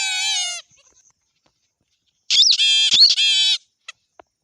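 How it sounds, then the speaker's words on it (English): A toy rabbit plays a high, electronic bleating call in two bursts separated by a pause, clear and close, with a couple of small clicks at the end. "Wow, rabbit is making sound."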